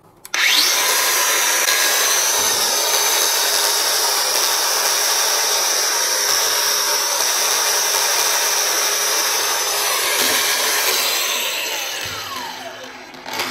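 A DongCheng DCSM04-100 cordless grinder running with a 5Ah battery: a loud, steady high-pitched whine that spins up quickly and holds level before winding down at the end.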